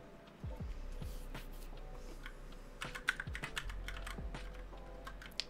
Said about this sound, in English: I keep on hitting tab instead of backspace because they're right next to each other on my keyboard.